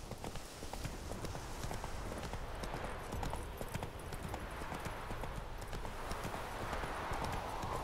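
Hooves of the horse in The Witcher 3 clop along a road in a brisk, even trot that stays near and steady throughout, with light game ambience underneath.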